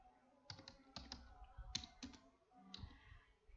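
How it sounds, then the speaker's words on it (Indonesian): Light typing on a computer keyboard, a handful of quiet irregular clicks and key taps close by with no talk. "Maka saya mulai mengetik soal."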